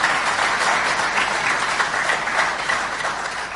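Steady applause from a large conference audience in Sudan, dense and continuous clapping of many hands, fairly loud and even throughout with no speech on top.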